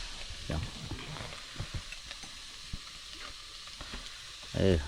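Squirrel meat fries in oil with a soft, steady sizzle, interrupted by scattered stirring scrapes and clinks, fairly faint, with a brief louder burst at the end.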